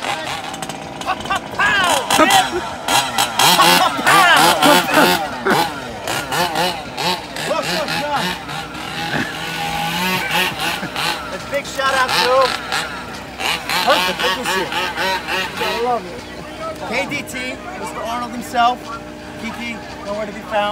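Nitro-powered RC drag race cars at a 2019 RC drag racing event drive and rev with buzzing, rasping engine whines that rise and fall throughout, loud and close, with people talking over them.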